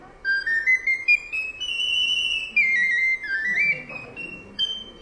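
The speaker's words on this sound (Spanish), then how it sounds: "Este es otra flautita mucho más pequeña." A garklein recorder, the tiniest recorder, plays a shrill, piercing high melody of sustained and sliding notes, close and fairly loud, with faint room noise beneath.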